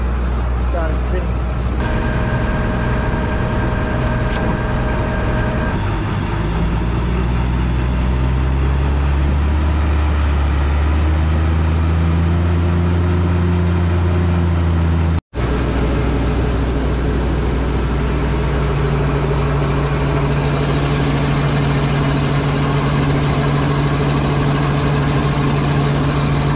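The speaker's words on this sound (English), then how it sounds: "When I was pulling back in, this wheel just started spinning." Engine of a harvesting vehicle runs loud and steady while one wheel spins in deep, soft ground, a low droning rumble with changing pitch throughout, with people talking over it.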